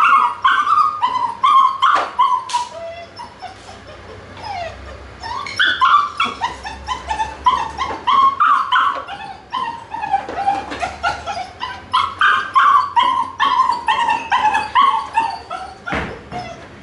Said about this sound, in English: Whilst it's crying in the crate, the puppy must be ignored.